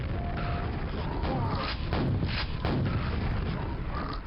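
Repeated booming blasts and mechanical clatter from a video game map, dense and continuous over a low rumble, with a voice talking faintly underneath.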